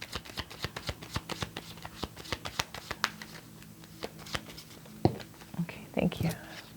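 Tarot cards shuffled by hand in a series of soft, rapid riffling and tapping bursts, close and fairly quiet, with a low voice speaking briefly near the end.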